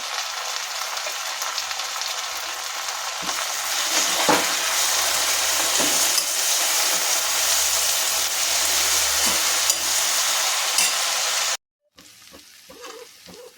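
Gongura sorrel leaves fry in a pan with a loud, steady hiss and sizzle, broken by occasional scrapes of stirring, before cutting off abruptly into quieter sounds near the end.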